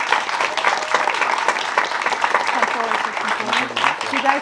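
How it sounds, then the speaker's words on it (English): Closing round of applause at a youth film festival panel, lively clapping from a small audience with voices and chatter rising underneath toward the end. "One more round of applause for everybody."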